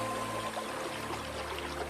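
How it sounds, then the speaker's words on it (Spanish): Water rushes steadily through irrigation canals, a continuous broadband flowing wash with no pauses and no voices. "El agua fluía a través de un sistema de canales."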